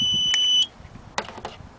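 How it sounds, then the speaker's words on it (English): A small speaker gives a short, steady electronic beep when triggered by a remote control unit plugged into channel 1 of a carbon fiber Starship model's dual-rocket launch setup; a few faint clicks and handling noises follow. "I plugged this into channel 1, so you should have hear a beep when I hit it"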